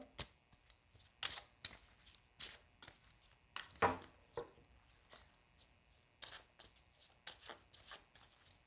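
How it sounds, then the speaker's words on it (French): Tarot cards shuffled by hand close up, a series of quiet riffling and tapping bursts at irregular intervals, soft and without talk. "je vais battre les cartes"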